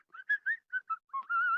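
A person whistles a tune near an open-air forge where a blacksmith hammers, heard as a string of short clear notes ending in one long held note, loud and alone with no talk.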